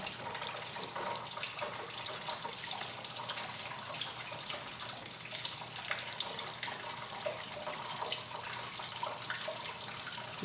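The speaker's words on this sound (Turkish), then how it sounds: "Arkadan su geliyor çünkü." Water drains from the back of a Toyota Corolla with a steady, hissing trickle that stays even and close throughout, with no talking.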